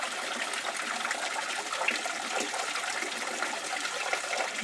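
Spring water rushes steadily through a sandstone grotto ravine in Florida, a close, continuous broadband gush with no pauses and no voices.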